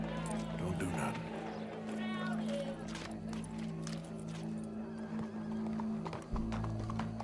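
Horses in the Red Dead Redemption 2 video game clip-clop and whinny beneath a steady hum and voices talking, with hoof sounds and snorts scattered through the scene at moderate distance.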